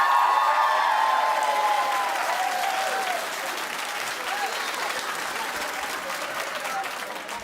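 A studio audience at a daytime talk show applauds loudly, a dense wash of clapping that gradually eases to a steadier patter over several seconds.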